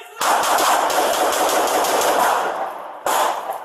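Police gunfire at an armed confrontation in Anchorage: a loud, rapid burst of shots runs for nearly three seconds, then a fresh volley starts after a brief pause.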